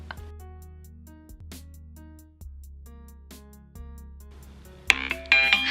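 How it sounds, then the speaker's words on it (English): A phone alarm rings with a repeating electronic melody of bright tones and soft pulses, quiet at first, then a sharp click and a louder burst of ringing near the end. "That's my alarm."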